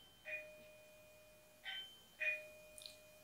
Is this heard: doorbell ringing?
yes